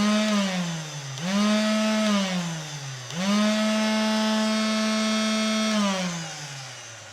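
An INGCO CDSLI2051 cordless battery sander runs alone, its motor whining up to speed three times in succession, holding a steady tonal buzz and sagging slightly before each restart.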